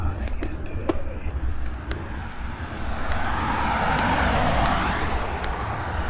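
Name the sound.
highway traffic passing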